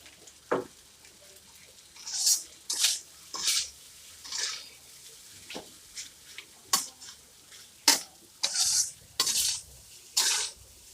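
Fried rice stir-fried in a pan with butter, heard as repeated scraping and clanking of a utensil against the pan in short bursts over a soft, low sizzle.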